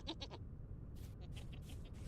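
Goats in the game Vintage Story bleat in short bursts: a quick wavering call at the start, then several choppy, moderately faint bleats over a low rumbling ambience.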